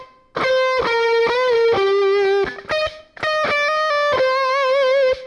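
An overdriven electric guitar plays a solo line: sustained, singing lead notes with vibrato and picked note changes, close and loud, with a brief pause midway and no talk.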